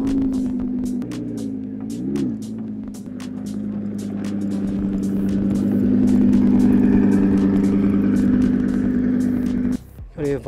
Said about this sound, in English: the camper van is leaving